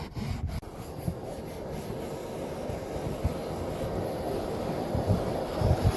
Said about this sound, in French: on se munira d'une brosse de nettoyage pour gratter l'ancienne mousse présente sur le ciel de toit